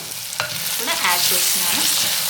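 Cumin seeds sizzling in hot oil in a pan for vegetable pulao while a spoon stirs and scrapes, a close, loud, continuous frying hiss with no speech.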